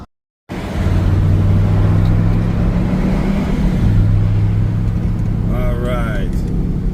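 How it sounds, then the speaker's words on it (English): Car cruising on a freeway in Portland, Oregon, giving a steady, loud road and engine drone that holds for the whole stretch after a brief silent start, with a faint high whine near the end. "now I'm driving on freeway, Portland"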